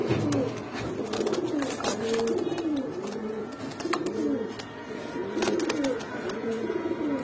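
Gola and khaki pigeons coo in a repeated, rolling rhythm, several birds calling close by over a steady background hum with occasional sharp clicks.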